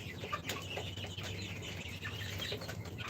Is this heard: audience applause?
no